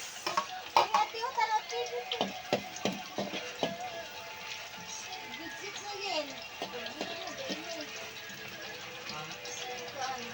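Onions fry in a pan with a steady soft sizzle, broken by repeated sharp clacks of a utensil against the pan, while a voice talks over the cooking.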